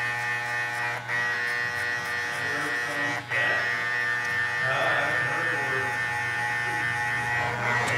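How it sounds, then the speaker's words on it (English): Adjustable hair clipper, opened all the way, buzzing steadily at close range while cutting a barbershop skin fade with comb over, a continuous electric hum with brief dips as it moves through the hair. "I'll take my adjustable clipper, open it all the way, and create a line about a half inch"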